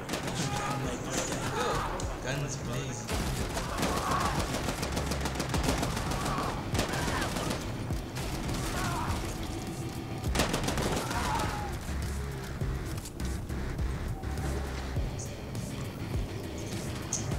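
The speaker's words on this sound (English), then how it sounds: "Guns blazing." Gunfire in the sci-fi shooter game The Ascent rattles in a continuous, busy stream of rapid shots and bursts, loud and steady throughout, with some voices faintly underneath.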